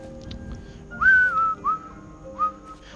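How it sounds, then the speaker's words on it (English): A person whistles a few short notes close to the microphone, one longer sliding note followed by two brief chirps, with a game's quiet ambient background underneath. "I shouldn't whistle,"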